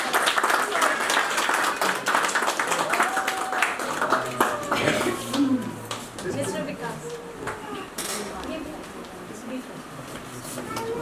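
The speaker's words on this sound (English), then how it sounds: "Please give a big round of applause for the team." A big round of applause for a team at a banking quiz semi-final, loud sustained clapping from an audience with some voices mixed in, easing somewhat toward the end.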